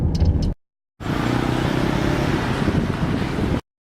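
Steady interior road noise of a car driving in France on a day out exploring, a broad continuous rumble and hiss after a brief gap, with no voices over it.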